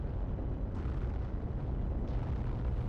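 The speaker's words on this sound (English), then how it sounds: "aerial bomb explosions" Aerial bomb explosions in the WWII shooter Heroes & Generals: two heavy blasts, roughly a second apart, burst out of a loud, continuous rumbling roar that never drops away.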